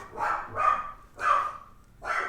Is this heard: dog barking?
yes